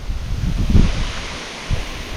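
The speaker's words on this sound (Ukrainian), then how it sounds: "Ну, вітер, я вам скажу, треш" Strong wind on a riverbank buffets the microphone in a steady low roar, with gusty surges rising and falling throughout.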